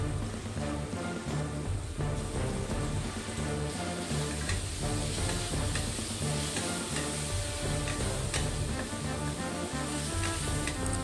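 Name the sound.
ginger garlic masala frying, turmeric stirred in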